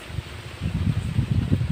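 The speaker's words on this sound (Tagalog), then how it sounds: "Ay, mahangin kasi guys. Mahangin siya guys." Steady low rumbling wind buffeting the microphone, gusting louder in the second half, with no voices.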